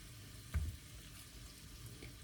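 Raw shrimp dropped into a pan of golden frying garlic, setting off a brief burst of sizzling near the start that settles into a low, steady frying hiss.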